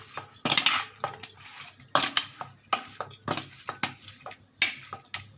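A spoon scrapes and clinks against a bowl as salt is mixed into chicken pieces, repeated sharp metallic taps and scrapes in an uneven rhythm, close and clear with no talking.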